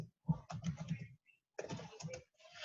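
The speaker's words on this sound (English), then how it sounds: "I'm typing her name here." Fingers tap quickly on a computer keyboard in two short flurries of soft clicks separated by a pause, faint and close, with no talking.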